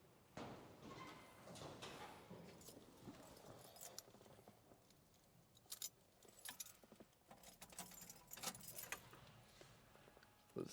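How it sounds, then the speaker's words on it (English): Car keys jangle and clink in bursts, close and fairly loud, fetched for a cold start of an El Camino on a 90-degree day, with light handling knocks between shakes. "So let's get the keys for it."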